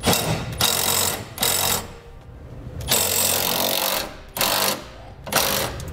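Ratcheting a 9/16 socket on a bolt while a wrench holds the nut, fitting rear air helper springs on a 2012 Ford: several bursts of ratchet clicking separated by short pauses, close and fairly loud, with no talk.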